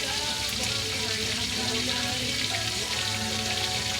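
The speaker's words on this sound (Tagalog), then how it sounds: "napakita ko sa inyo yung isda na piniprito namin" Pisaw-pisaw fish fries in hot oil, a close, steady crackling sizzle that holds evenly throughout with no pauses.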